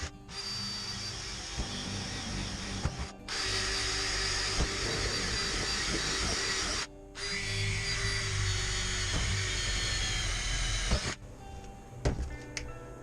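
A power drill bores holes in a steel van roof rack, its loud, steady whir running in three long stretches separated by short pauses, with a few clicks at the end.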